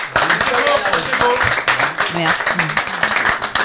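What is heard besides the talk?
audience clapping for a singer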